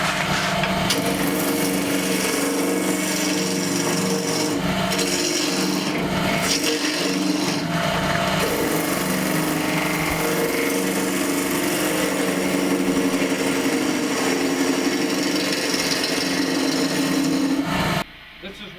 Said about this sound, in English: That's when you use the roughing out gouge.